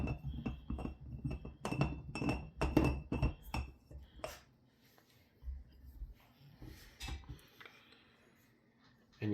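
The glass dome of a Stundenglass gravity bong is set into place, giving a series of close, crisp glass clinks and taps in quick clusters, then quieter scattered knocks.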